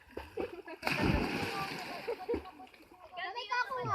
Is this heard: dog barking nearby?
no